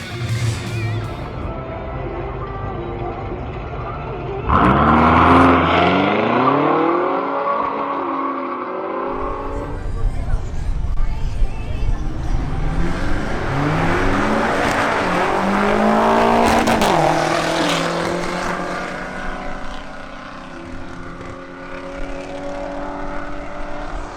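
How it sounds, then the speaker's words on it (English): A BMW X5M launches on a timed qualifying acceleration run. The engine climbs hard through several gears with rising pitch and audible shifts, and a second car's surge follows amid loud, strained engine roar. "Now Ronald Chavez in his BMW X5M is making a first attempt at qualifying."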